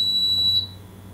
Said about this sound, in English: if you don't turn off the alarm, it will continue to alarm